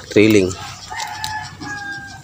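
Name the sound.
chickens and rooster crowing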